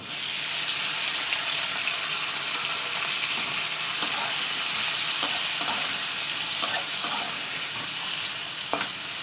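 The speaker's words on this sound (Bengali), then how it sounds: "এবার এই তেলটা গরম হয়ে গেছে, এবার আমি এতে পেঁয়াজ টমেটো কাঁচা লঙ্কা দিয়ে দেবো।" Onion, tomato and green chillies frying in hot oil, a steady close sizzle with occasional clicks and scrapes of a spoon stirring in the pan.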